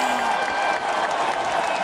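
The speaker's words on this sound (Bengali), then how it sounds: "কান ফাটানো করতালির ভেতর" Thunderous applause used as an audiobook sound effect: a dense, loud, continuous wash of clapping from a large crowd that holds steady throughout with no voices.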